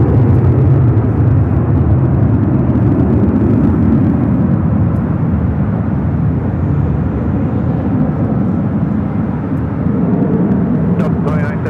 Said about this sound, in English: Avianca and the Star Alliance livery, A320, now rolling down to 24 left.